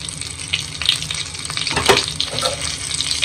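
Cardamom and cinnamon sizzle steadily in ghee and oil for fish biryani, a continuous close frying crackle with a brief louder stir or spatter near the middle.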